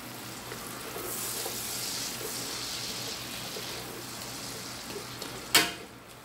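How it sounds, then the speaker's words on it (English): Onions sauté in a pan as part of a kale and greens dish, a steady broadband sizzle with soft stirring scrapes from tongs and a sharp clack near the end. "And we'll take our tongs and mix it around."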